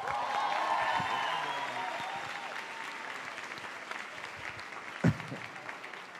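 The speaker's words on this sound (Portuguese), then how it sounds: "E uma salva de palmas, então, para a igreja" A church congregation claps for itself in warm, sustained applause that gradually thins out, with a single sharp thump near the end.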